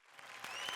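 Studio audience applause at a televised comedy show, a steady wash of clapping that swells slightly over a brief moment, no voices.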